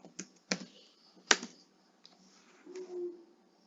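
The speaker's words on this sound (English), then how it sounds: "To install them, we will type pip install" Several sharp, separate keystrokes on a computer keyboard, quiet and close, typed at an uneven pace with short pauses between taps.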